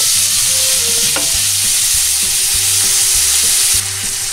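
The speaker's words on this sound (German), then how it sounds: "jetzt geben wir unser Rinderfilet geschnetzeltes hinzu. Und wie gesagt, leicht anbraten." Strips of beef fillet sizzling steadily in a hot pan as they are lightly fried with rosemary and garlic, a loud continuous hiss with occasional stirring clinks and no talking.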